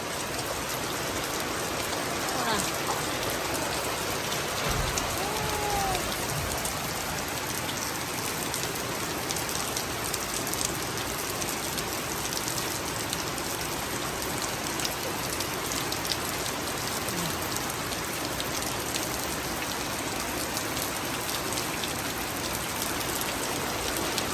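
Heavy rain pours down steadily for the whole stretch, a dense, even hiss of drops drumming on surfaces with no voices.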